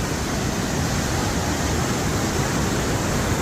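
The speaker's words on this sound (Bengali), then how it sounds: "দেখো ওই যে দেখো ধাও ধাও করে পানি যাইতেছে" Floodwater rushing hard through a closed sluice gate during an Assam flood, a steady, dense roar of churning water that fills the whole clip without pause.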